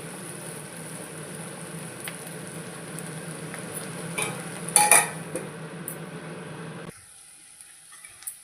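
Broad beans (chikkudukaaya) fry in a pan with a soft, steady sizzle while a spoon scrapes and clinks against the metal, then the sizzle drops away near the end.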